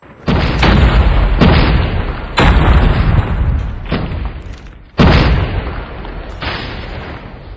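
Explosions and heavy gunfire boom out in the Call of Duty Mobile video game, with several loud, deep blasts arriving at irregular intervals, each decaying into a rumbling tail.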